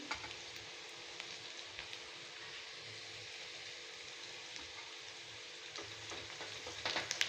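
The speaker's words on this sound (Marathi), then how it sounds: "कांदा लाल होऊ द्यायचा थोडा कांदा लाल झाला की अद्रक लसूण पेस्ट" Onion fries in a pan until reddish-brown, giving a faint, steady crackling sizzle like light rain, with a few brighter spatters and stirring clicks near the end.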